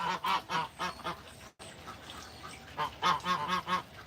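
Duck on a farm giving a series of harsh, raspy hiss-like calls in bursts, with a short gap midway, then a louder run of repeated rasping honks close by.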